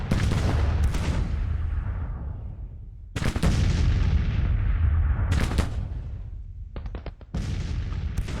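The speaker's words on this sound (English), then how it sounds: "Put some fire on those guns." Artillery and gunfire in Grand Tactician: Civil War, a 1862 battle: loud booming cannon blasts and rattling volleys in several separate bursts, each decaying into a rolling rumble, with sharp closely spaced shots near the end.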